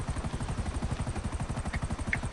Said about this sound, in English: It's a regular buzzard. It's not a buzzard attack helicopter.